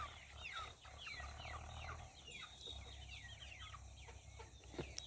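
A mother hen and her chicks, with repeated clucks and chirpy chick peeps running steadily throughout over a low background rumble, close and continuous.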